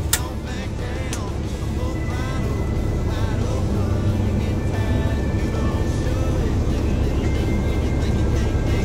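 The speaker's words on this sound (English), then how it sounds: "I'm going to show you guys how a logger backs up their trailer" A logging truck backs up its trailer, a steady heavy diesel drone holding loud and close throughout, with a speaking voice faintly over the engine.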